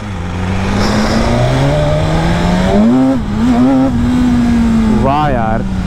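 A BMW S1000RR, a 200-plus horsepower top-variant track superbike, accelerating while ridden, its engine note climbing in pitch through the gears with a brief dip at a shift, loud and close, with a rider's voice talking over it.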